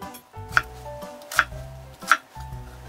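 A knife cuts through half an onion on a cutting board in three sharp, evenly spaced chops, each a crisp thud that stands out from a quiet room.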